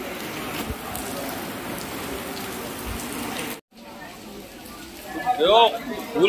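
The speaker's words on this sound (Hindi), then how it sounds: "तो बारिश शुरू हुई है अजमेर शरीफ में आज" Steady rain falling at the Ajmer Sharif shrine on a Friday, a continuous hiss of drops with a brief dropout midway, after which voices and chirpy sounds rise over the rainfall.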